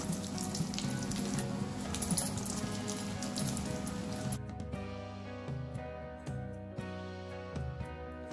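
Bread gulab jamun balls deep-fry in hot oil with a dense bubbling sizzle that suddenly drops away halfway, leaving soft music with a lighter hiss beneath.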